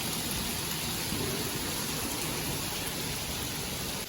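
Heavy rain pouring down in a dense, constant roar of drops hitting surfaces, loud and unbroken from start to end with no speech.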